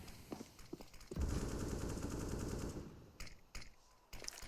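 Rapid automatic gunfire sprays in CS:GO on the Nuke map: a sustained burst of close machine-gun fire followed by scattered single shots and sharp impacts, with no talking.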